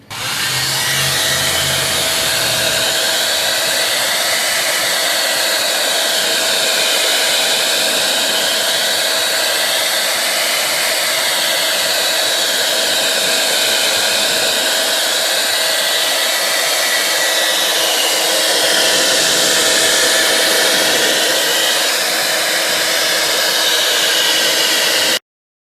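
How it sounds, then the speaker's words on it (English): A hair dryer heats a car emblem and molding trim to loosen the adhesive, a loud, close, steady rushing whir held for over twenty seconds with slight wavering in tone as it is moved about. "I'm going to heat these up"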